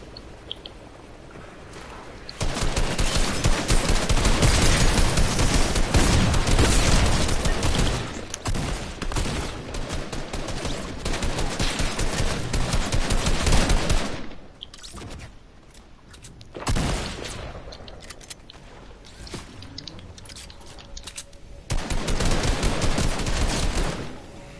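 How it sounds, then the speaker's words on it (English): Fortnite gunfire with shotgun blasts among it, loud dense volleys of shots in long stretches, broken by brief quieter gaps before firing resumes. "I'm getting hit by a shotgun a lot."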